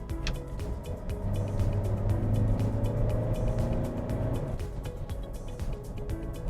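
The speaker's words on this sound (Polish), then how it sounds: "Gaz do dechy i ruszamy." A SAAB 9-5 NG sedan of about 1800 kg accelerates at full throttle from 60 to 90 km/h, its engine a steady, strong drone with a slowly rising tone over road and wind noise.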